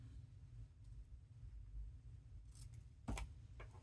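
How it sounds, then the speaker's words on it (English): Scissors snipping paper for a handmade journal, a couple of quick close crisp cuts, the sharpest near the end, over a quiet low background hum. "Just snip it down"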